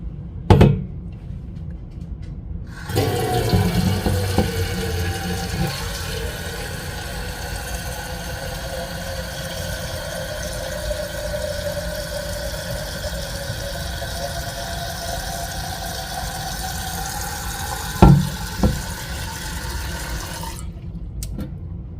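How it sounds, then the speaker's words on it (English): Water pours steadily onto newly planted patio summer tabletop planters for nearly twenty seconds, a constant rushing flow framed by a couple of brief knocks at the start and near the end. "Now let's water these babies in."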